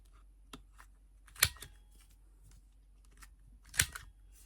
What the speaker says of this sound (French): on va déjà venir couper nos quatre coins sur chacun de nos morceaux